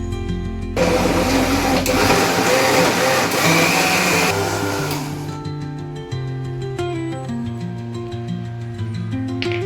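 A kitchen mixer grinding coconut with added water into a fine milky juice for solkadhi, a loud dense whir that starts abruptly, runs steadily, then eases into a lower, rougher hum toward the end.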